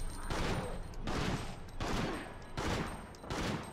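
Pistol fire at a zombie in the PS2 game Biohazard Outbreak, five evenly spaced bursts of shots about every three-quarters of a second, loud and close, with no talk over them.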